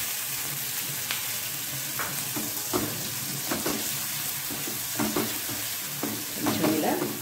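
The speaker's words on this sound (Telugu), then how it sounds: "అది కూడా కొంచెం వేయించాలి పచ్చివే కాబట్టి వేసింది పచ్చివాసన పోయేంత వరకు వేయించుకోవాలి" Ground mustard paste fries in a pan for tamarind rice, a constant sizzle with intermittent scraping stirs close by.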